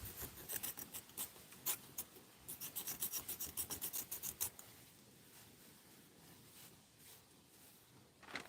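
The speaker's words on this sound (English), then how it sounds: "I'm just going to scrape the layer." A bark-covered tree branch being scraped with a blade, giving a run of quick, loud rasping strokes in steady rhythm that stop midway and leave faint outdoor ambience.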